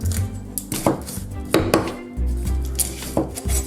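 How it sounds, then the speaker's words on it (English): A knife cuts through an onion on a cutting board, trimming off both ends, with several sharp chopping knocks spaced irregularly over a low background hum, close and fairly loud. "So just cut it straight down the middle, like that. Cut off both ends because you're going to be slicing it"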